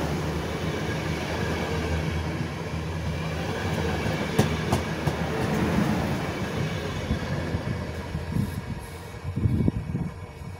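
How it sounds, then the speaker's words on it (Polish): An electric locomotive pulling seven passenger coaches rolls into a station along the platform edge, a loud steady rumble with wheel clicks and clatter building near the end. "A Mechu, widząc mnie jak nagrywam wjazd, to specjalnie elektrowozem przejechał krawędź peronu."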